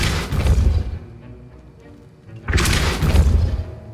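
A Depulso spell cast in the Hogwarts Legacy video game bursts out as a loud, booming blast with a crashing impact, comes again after a quieter stretch, and is heard alone with no speech.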